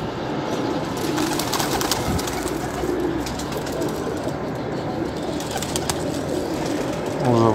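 Pigeons coo softly among the steady hum of a busy loft or yard, with faint voices and low background noise throughout.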